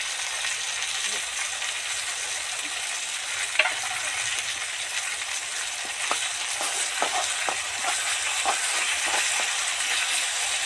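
Continuous loud hissing sizzle of ginger paste frying in oil with bay leaves, with scattered light taps and scrapes of stirring throughout.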